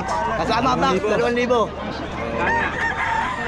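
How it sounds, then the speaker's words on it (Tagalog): Roosters crow amid clucking fowl at a busy pet market, the calls rising over steady crowd babble while a vendor and buyer haggle nearby. "Malaking manok."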